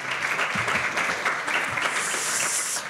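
Sustained audience applause at the Skrzydła Ekologii award gala, a steady dense wash of clapping filling the whole stretch at moderate loudness with no voices over it.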